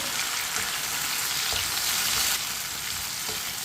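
Chopped tomatoes and green chillies fry in a pan over medium heat while a spoon stirs them, making a steady, close sizzle with occasional scraping scrapes and no voices.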